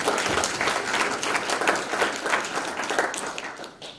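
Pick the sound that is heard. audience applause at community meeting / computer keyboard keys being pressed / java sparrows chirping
audience applause at community meeting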